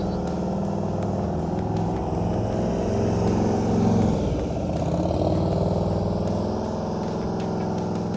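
A motorcycle engine idles and putters at low speed during slow-speed riding practice, a steady close rumble that swells slightly in the middle of the stretch before settling back.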